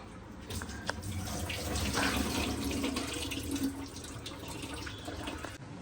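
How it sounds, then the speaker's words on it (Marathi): Okra is washed under a running kitchen tap, a steady close splash of water into the sink that swells in the middle and continues throughout with no talk. "तर मी भेंडी धुवून घेतली"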